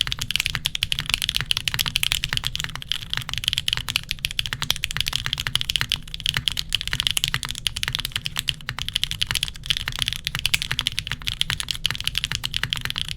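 Rapid, continuous clicking of a computer keyboard being typed on, picked up close by the microphones, with fast irregular keystrokes that run without pause.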